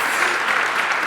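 A campus audience applauds and cheers during a university State of the University address, a short steady wash of clapping from a large crowd.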